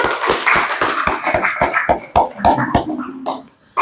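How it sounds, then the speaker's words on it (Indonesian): A small classroom group claps in a loose, uneven rhythm, close and sharp at first, then thinning into scattered claps. "Tepuk tangan dulu untuk kita semua."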